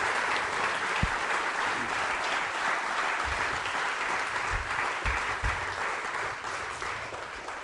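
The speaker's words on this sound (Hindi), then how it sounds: "आप अपने लिए तालियां बजाओ सर, चलिए चलिए, जोरदार तरीके से" A school quiz show audience applauds the contestants, steady dense clapping from many hands at fairly close range, sustained and even throughout with a few low thumps standing out.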